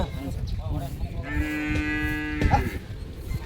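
A first-lactation HF breed cow moos with a long, drawn-out, loud low call at a cattle sale in Telagi village, Vijayanagara, over background murmur, with a brief knock near the end.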